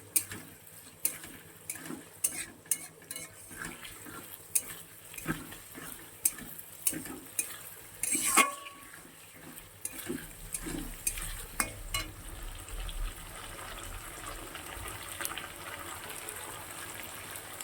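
Cumin and ginger-garlic paste frying in a pan, with repeated sharp taps and scrapes of a spoon in the first half giving way to a steadier, soft sizzle later on, fairly quiet and close, no speech.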